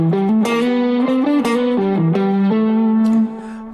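A distorted electric guitar solo plays a natural-minor phrase over a backing track, a quick run of sustained, bent notes, loud and close, ending abruptly with no voices.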